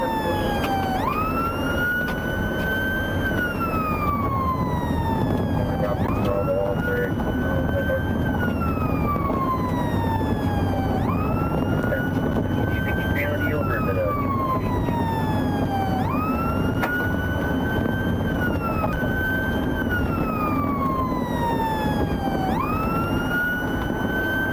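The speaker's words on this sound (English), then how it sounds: "The sergeant activated his emergency lights and siren to signal the driver to pull over" A police car siren wails in a long, repeating rise-and-fall cycle during a high-speed pursuit, loud and steady over engine and road noise, with a voice talking over it.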